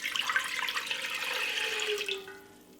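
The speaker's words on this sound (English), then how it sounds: "Basically, put a pot on the stove. Then put your water inside of it." Water poured from a tap into a pot on the stove while making a black cumin drink, a steady splashing rush for about two seconds before it tapers off.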